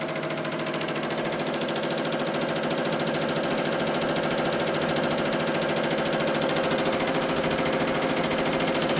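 Embroidery machine stitching through a thick layer of felt, plastic and stabilizer with Richword embroidery thread, a loud, steady, fast rhythmic mechanical hum that runs unbroken from start to finish with no voices.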